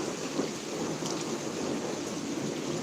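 Steady rain and rumbling thunder from a summer thunderstorm in Pittsburg, Kansas, a continuous dense wash of sound with no voices.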